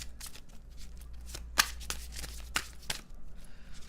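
Tarot cards being shuffled by hand during a reading, a close, quiet riffling and flicking with a few sharper snaps as cards are drawn, over a low background hum.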